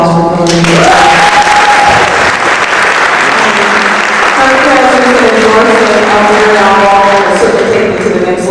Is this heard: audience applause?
yes